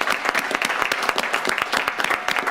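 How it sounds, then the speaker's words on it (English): Applause at a school board regular meeting, a small room of people clapping with distinct individual claps in a brisk, uneven rhythm, close and fairly loud, no voices over it. "So I just like a round of applause for,"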